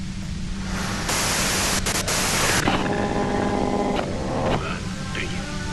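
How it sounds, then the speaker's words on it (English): A radio in the game Disco Elysium hisses with loud, steady white-noise static throughout. Bursts of harsher broadband noise come through, then warbling tones partway in as the dial shifts. "you can do it through the white noise."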